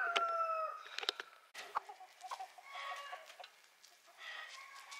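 Chickens in a pen cluck and squawk in an uneven burst of calls, fairly faint and somewhat distant, with a sharp cry near the start.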